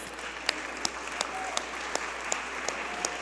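Sparse, fairly quiet clapping at a school board of education meeting in support of high school cheerleaders, with a few distinct sharper claps standing out at regular intervals over a low room hum.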